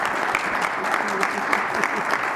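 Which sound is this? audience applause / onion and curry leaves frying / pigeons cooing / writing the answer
audience applause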